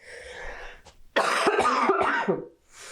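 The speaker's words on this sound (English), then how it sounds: "I'm going to be coughing" A few harsh coughs close to the microphone, bursting out in quick succession with brief pauses, preceded by quieter breathy noise.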